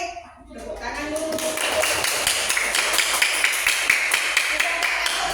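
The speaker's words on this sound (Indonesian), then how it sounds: "Tepuk tangan dulu." A classroom of children breaks into continuous applause, dense overlapping hand claps rising after a short spoken cue and holding steady to the end.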